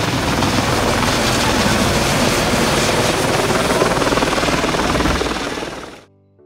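A helicopter roars loud and close, a dense continuous rotor and engine wash with a fast chopping pulse, holding steady for several seconds before cutting off abruptly.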